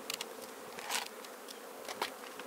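Honey bees buzzing around a beekeeper's hives in spring, a faint, steady hum with a few brief louder passes as individual bees fly close by.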